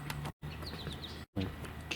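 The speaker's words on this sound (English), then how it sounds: "I'm hearing, I believe, red-winged blackbirds." Several short high-pitched red-winged blackbird calls ring out against an outdoor background, a series of rising chirps, moderately close.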